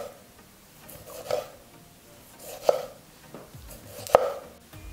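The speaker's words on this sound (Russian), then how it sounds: "Так, теперь нарезаем очень-очень тонко." A knife slices halved medium tomatoes very thinly on a cutting board, three soft, well-spaced cuts, each ending in a sharp tap of the blade on the board, quiet with no talk.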